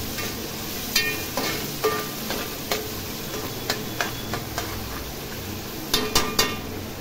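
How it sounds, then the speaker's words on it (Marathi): Finely chopped onions frying in oil toward golden brown for a green chicken korma, a steady sizzle broken by repeated spatula scrapes and metallic clinks against the pan, close and moderately loud. "आता छान गोल्डन ब्राऊन होईपर्यंत आपल्याला हा कांदा ह्या तेलावर फ्राय करून घ्यायचा आहे."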